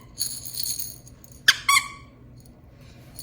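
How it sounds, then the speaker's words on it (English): A squeaky dog toy is squeezed a few times, giving sharp, high squeaks with a loud double squeak in the middle, against faint room noise. "And it squeaks."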